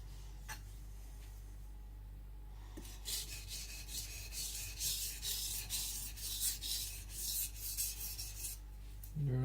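Gyuto knife, a Shibata Kotetsu, stroked across a coarse Shapton Pro 220 whetstone, giving a steady run of close, gritty rasping strokes that grows louder and more rhythmic after a quieter start.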